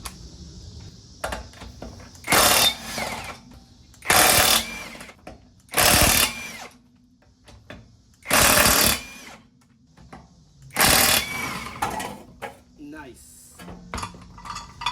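Loud rattling bursts of an impact wrench on the lug nuts of a VW Jetta MK6, five or six separate blasts a couple of seconds apart, with quieter clicks and handling noise between them.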